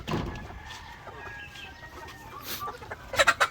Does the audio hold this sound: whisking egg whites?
no